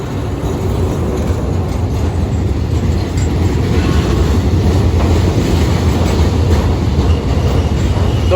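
A train rumbles steadily close by with a continuous low roar of wheels and cars, including oil tank cars, arriving at Surat Thani railway station in Thailand; no voices, a constant dense mechanical noise throughout.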